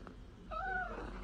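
An orange cat lets out one short, clear meow, close and fairly quiet, over a low background hum.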